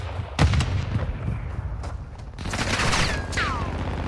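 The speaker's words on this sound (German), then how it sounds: "Werfe Blendgranate." Flashbang grenade detonating in the video game Modern Warfare II during a Domination match on Taraq, a sharp loud burst followed by a fizzing, ringing tail amid ongoing gunfire and game noise.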